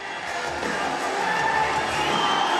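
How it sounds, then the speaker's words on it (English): A packed King's Hall crowd roars for fighter Rodney Moore at a Cage Contender MMA event, a steady, loud wall of cheering and shouting that swells slightly over a few seconds. "Listen to the noise of the King's Hall."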